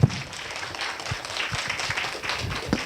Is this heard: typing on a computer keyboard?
no